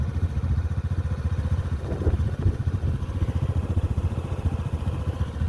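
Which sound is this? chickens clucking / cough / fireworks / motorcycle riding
motorcycle riding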